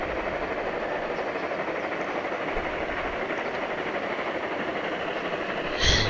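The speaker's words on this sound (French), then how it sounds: "la voilà, la locomotive" A locomotive in the train game Streamlined rumbles steadily and loudly throughout, a dense continuous roar of rolling wheels and engine with no gaps, ending in a brief brighter hiss.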